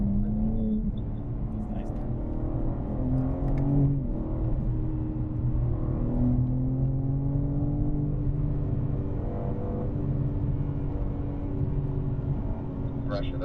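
BMW M car on a race track, engine droning steadily and rising as the throttle is fed in through a turn, heard from inside the cabin beneath an instructor's continuous coaching.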